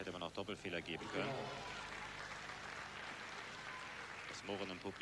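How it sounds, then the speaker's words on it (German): Indoor tennis crowd at the 1990 European Indoors final between Steffi Graf and Gabriela Sabatini, a broad murmur of spectators swelling and then settling under steady commentary from a broadcaster. "Das Murren im Publikum war verständlich."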